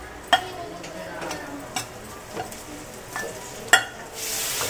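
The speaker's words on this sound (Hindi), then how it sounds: "इस टाइम खाना बना रही है।" Food cooks in a pan at home, with a low steady sizzle under repeated sharp scraping and clinking strokes of stirring, several of them loud.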